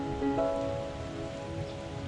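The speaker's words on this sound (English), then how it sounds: "It's been raining and drizzling the whole time." Rain and drizzle fall steadily at a cool highland resort near Bacolod City, a soft, continuous patter heard quietly with a faint tonal hum in the background and no talking.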